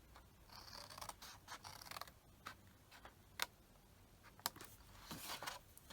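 Scissors cutting paper to make a triangular Halloween treat box, a close, quiet series of snips and crisp paper rustles in irregular bursts, with no talking.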